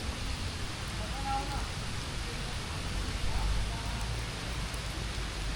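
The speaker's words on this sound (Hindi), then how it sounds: "बारिश शुरू हो गई है।" Rain begins falling on a rainy day beside a railway line between Attock and Rawalpindi, a soft, steady hiss of drops that is faint and continuous, with low rumbling background.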